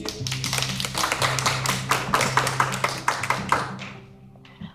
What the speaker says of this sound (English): Now you can give her a applause.